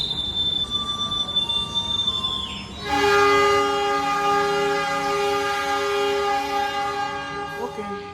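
A KA Mutiara passenger train at Madiun station preparing to depart: a long high tone fades, then a loud sustained horn with strong layered harmonics blares for several seconds over station rumble.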